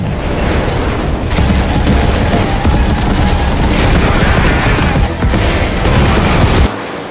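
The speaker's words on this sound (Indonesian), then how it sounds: "Lalu setelah itu bom pun dilepaskan dan boom." A bomb explodes in a Russian war film, a loud sustained blast with roaring, crackling debris and rumble that fills the scene, dipping briefly before cutting off abruptly near the end.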